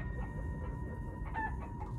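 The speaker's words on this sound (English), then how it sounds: "we are in the land of chickens that are indeed the size of zombies" Chickens clucking in Minecraft Story Mode, a few soft, short cackles over a steady low background hum.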